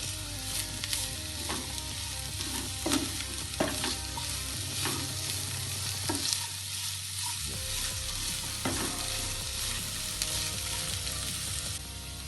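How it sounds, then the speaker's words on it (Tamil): Carrots and mint sauté in hot ghee in a pan, a steady sizzle broken by repeated scraping stirs, close and continuous with no one talking. "இதுவும் கொஞ்சம் நல்லா வதங்கட்டும்."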